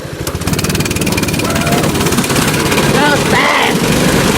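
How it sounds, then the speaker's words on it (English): Small dirt bike engine running steadily after a pull start with the choke on, a dense continuous buzzing drone held at an even, loud level throughout, with a voice talking over it near the end. "Hear that engine purr."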